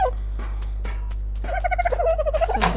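Dodo birds in the ARK video game give rapid, gobbling, turkey-like clucks over a steady low hum, with a faster burst of warbling calls building toward the end.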